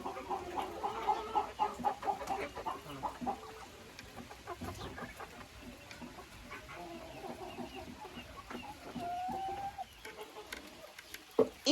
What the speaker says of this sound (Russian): Петух спрятался со своими красотками от дождя за дверью под курятником.